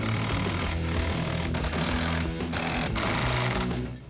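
Power tool snugging Torx bolts on a windshield brow bracket for an LED light bar on a Jeep Wrangler JK, a dense rapid rattling hammer close up, continuous with a few short breaks and no talk.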